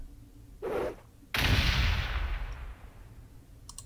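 Gunfire from the Warhammer 40k Gladius Relics of War strategy game with the Imperium mod: a short blast followed by a heavy, sustained roar of shots that slowly fades.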